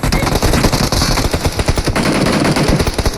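Loud rapid bursts of automatic gunfire in the battle royale game PUBG Mobile, close and dense with sharp repeated shots across the whole stretch.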